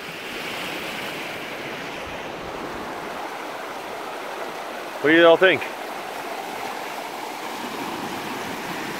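The Bittern River flows in a steady, broad rushing wash of water throughout, with someone briefly speaking over it near the middle.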